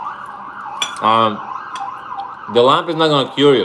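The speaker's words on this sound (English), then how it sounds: "Sorry about the sirens." Emergency vehicle sirens outside in Vancouver hold a steady, fairly loud wail through the whole stretch, with a person talking over it in short bursts.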